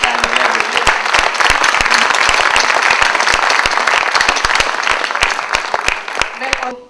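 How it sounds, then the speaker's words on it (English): An audience claps steadily through the whole stretch at a talk on capabilities and freedom, dense, loud and continuous, thinning slightly toward the end, with a voice faintly audible beneath the applause. "I would like you to join me in clapping Bina"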